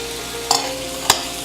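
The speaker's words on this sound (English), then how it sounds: "So we stir that up rather nicely." Meat stirred with a poured-in sauce in a pan for pepper steak, giving two short scraping stir strokes over a faint steady background hum.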